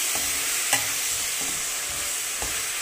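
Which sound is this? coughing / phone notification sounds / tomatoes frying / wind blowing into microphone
tomatoes frying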